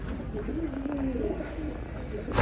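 A pigeon gives a soft, low coo close by, a short rising and falling call under quiet background noise.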